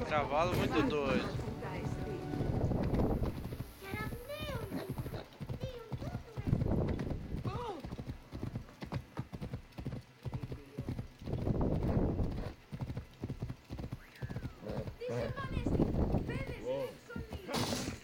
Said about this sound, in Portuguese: Cavalo muito doido.